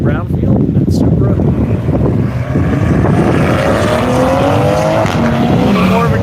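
Toyota Supra race car pulling away from the start at a circuit, engine roaring loud and close with tyre noise, the pitch rising as it accelerates, and voices faintly in the background.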